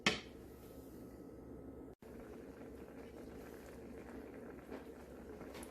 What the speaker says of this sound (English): we're getting some bubbling going here, or boiling, which means our sauce is getting frothy